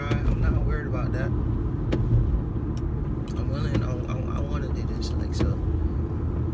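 Steady low engine rumble and road noise from a car being driven, continuous and fairly loud throughout, with a voice talking over it.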